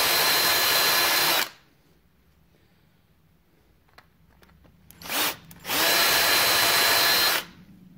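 A power drill grinds out a broken bolt in two loud, steady bursts, one lasting about a second and a half and a longer one near the end, separated by near silence with a few small clicks.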